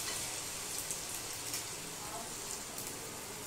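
Suji pakora batter sizzles steadily in hot oil in a kadai, a soft, continuous crackling hiss heard faintly and evenly throughout.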